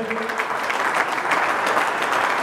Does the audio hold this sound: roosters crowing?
no